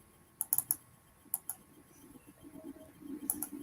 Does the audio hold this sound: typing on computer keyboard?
yes